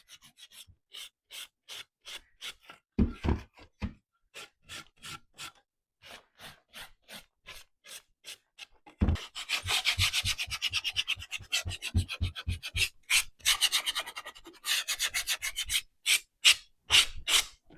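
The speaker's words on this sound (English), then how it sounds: "I'm just going to sand by hand. That way I can kind of control where I'm sanding." A thrifted wooden home decor piece is hand-sanded in steady rhythmic rasping strokes, sparse and light at first, then denser and louder toward the end, close up, with no voices.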